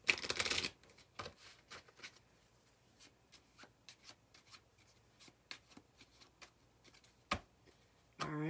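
Crisp riffling of a deck of playing cards being shuffled, with a burst at the start and end and soft handling taps between.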